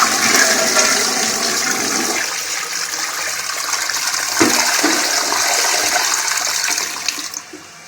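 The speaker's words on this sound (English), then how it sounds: "Here's another flush." Flush of a toilet with a Fluidmaster fill valve and lever, a Briggs bowl and a tank that may be a Granada: a loud rushing swirl of water that fades into gurgling and refilling, with no talking.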